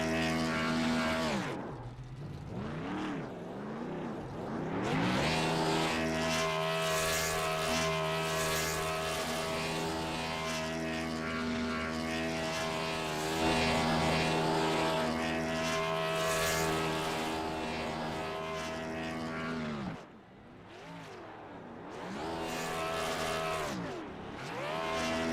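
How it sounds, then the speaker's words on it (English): A race car does burnouts at Pelican's Snoballs Superspeedway. Its engine screams in a loud, sustained roar, rising and falling with the revs, then briefly drops around the twentieth second before surging again. "Logan Hagerman doing some burnouts for the camera."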